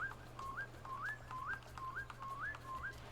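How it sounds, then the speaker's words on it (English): A game character whistles a short rising-and-falling tune, repeating the same slurred phrase about five times in a steady rhythm, clear and fairly close over a low constant hum with no talking. "And we can whistle."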